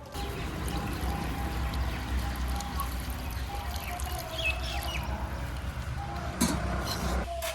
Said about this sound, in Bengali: এখন আমি দিয়ে দেবো পরিমাণ মতো জল